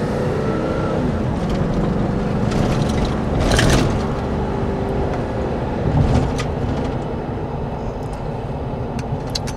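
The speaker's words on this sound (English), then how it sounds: "Now you can probably tell right away it's got a ferocious motor." A Suburban's engine droning close up while driving, a loud steady rumble that swells briefly in a couple of revs before settling back.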